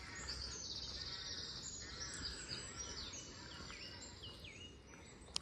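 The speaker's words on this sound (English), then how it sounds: "Rookery's very noisy." A noisy rookery of rooks on a murky April day in St Lawrence, Isle of Wight, fills the air with overlapping calls and chatter, steady and somewhat distant.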